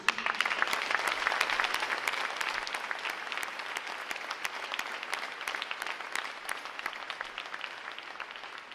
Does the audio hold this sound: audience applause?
yes